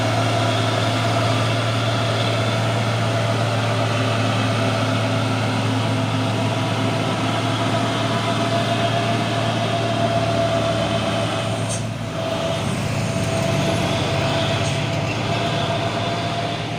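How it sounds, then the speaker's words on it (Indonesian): Engine of a CPO tanker truck: a steady, loud, low diesel drone with a constant hum and no breaks, heard alone and close by, with a slight shift near the end. "Truk tangki CPO pemain apa ini?"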